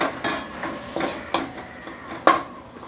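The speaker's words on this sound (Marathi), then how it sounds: "जरा मिक्स करून घ्यायची जरा कांद्यामध्ये" Soaked chana dal is stirred into onions in a pan: a few sharp, close spoon scrapes and taps over a soft sizzle, spaced irregularly across a short stretch.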